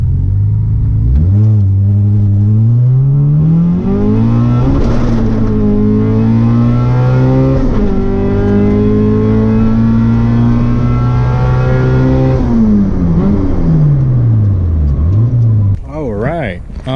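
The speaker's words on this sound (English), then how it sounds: "I'm gonna go on a test drive." A Honda EG hatchback with an H2B engine swap accelerates on a test drive, its engine note climbing and falling through several gear changes, loud and continuous for the whole stretch.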